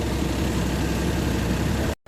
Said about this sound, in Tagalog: Nagtuyok-tuyok na pud ang makina